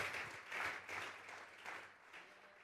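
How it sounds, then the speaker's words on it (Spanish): A church congregation at a Sunday service claps together, a faint, distant swell of applause that pulses briefly before fading. "Vamos a regalarle ofrenda de palmas al Dios de la gloria."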